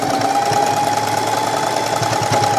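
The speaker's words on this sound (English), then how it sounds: "just piece these 2 together and sew everything down" A sewing machine runs at a steady fast pace stitching fabric pieces of a patchwork wizard hoodie, a close, loud mechanical whir with a constant rattling hum.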